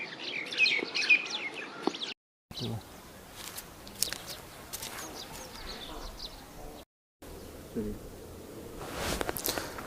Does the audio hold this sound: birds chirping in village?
yes